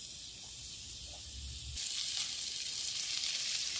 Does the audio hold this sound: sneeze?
no